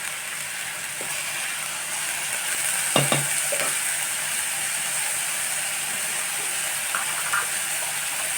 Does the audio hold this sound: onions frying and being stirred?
yes